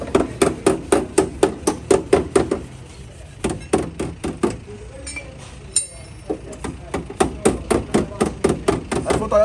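Hammer blows on a car sill panel during cold dent repair on a 2016 car, a fast, steady run of loud metallic strikes that breaks off briefly mid-way, then resumes with the same brisk rhythm.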